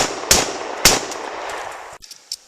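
Two sharp, loud outdoor gunshots from a Mossberg 500 riot shotgun in rural Michigan, fired about half a second apart, each ringing out briefly before the air settles into quieter rustling.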